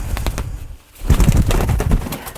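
A pet parrot in a family home calls in a rapid run of chirps and squawks close by, pausing briefly before a denser burst of chattering calls.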